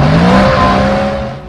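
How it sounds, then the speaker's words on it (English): A Bentley engine roars through a Prindiville stainless steel or titanium sports exhaust, a loud, steady deep drone with strong harmonics that eases off slightly at the end. "delivering a huge weight saving, power gains, and the all-important engine roar"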